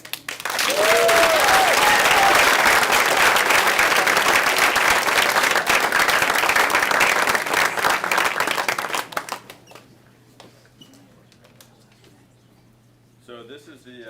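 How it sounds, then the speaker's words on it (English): An audience at a school spring awards ceremony claps loudly and steadily for about nine seconds, then the applause fades quickly into a quiet room. "we can also give an extra applause to Mr. Noonan for putting that together"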